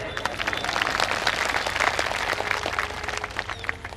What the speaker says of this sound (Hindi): इतनी अच्छी बात पे आपने इतनी कम ताली बजाई।